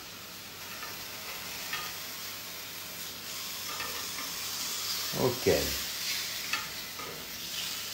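Squid pieces frying on a very hot griddle, a steady sizzle running throughout with a brief louder hiss and crackle burst near the middle, close and continuous, with a short spoken word.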